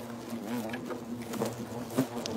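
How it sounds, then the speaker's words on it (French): An Asian hornet buzzes close by in a steady droning hum that wavers in pitch as it chases, with faint patter in the background. "Comment le frelon vous poursuit."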